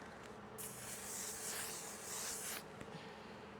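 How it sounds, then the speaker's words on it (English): A steady hissing spray of makeup setting spray runs for about two seconds, close and fairly loud, with no voices. "you can use this setting spray, which is supposed to be really awesome"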